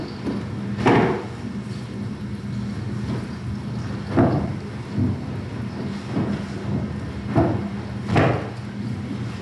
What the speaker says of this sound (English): That was the sound of the observatory dome sticking